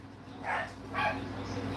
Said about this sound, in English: They don't usually bark like this until they see my husband or my daughters walking up the street.